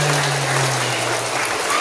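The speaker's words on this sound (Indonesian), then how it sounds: "Cumi, tepuk tangan dulu." Applause from a group at a martial arts belt promotion exam, a short burst of dense, even clapping that fills the moment with no talk over it.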